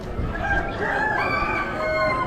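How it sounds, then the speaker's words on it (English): Roosters at an Amish animal auction crow loudly in a drawn-out cock-a-doodle-doo nearby, with some clucking mixed in under a faint murmur of auction noise. "Couple of roosters."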